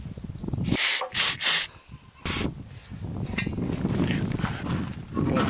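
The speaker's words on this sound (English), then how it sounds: "Got some starting fluid. And we'll squirt it in this little hole right here." Starting fluid from an aerosol can sprayed into a small carburetor intake hole in a few short, sharp hissing bursts, close up over a low background rumble.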